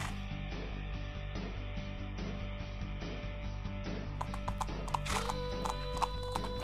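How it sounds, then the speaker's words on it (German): A horse trots in the riding video game Julia's Abenteuer im Reiterland, its regular clip-clop of hooves running steadily over sustained game music tones, with a whinny and brighter hoof clatter toward the end. "Also ja, das Traben funktioniert."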